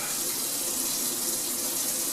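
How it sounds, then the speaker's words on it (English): Water runs steadily from a kitchen tap into a sink with a garbage disposal, a constant close splashing rush with no talk. "so water's coming down"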